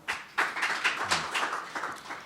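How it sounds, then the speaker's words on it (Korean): Applause from a seminar audience welcoming a company CEO to the stage at a construction industry forum, a moderate spread of clapping with a few sharper claps standing out, no voices over it. "큰 박수로 맞으시기 바랍니다"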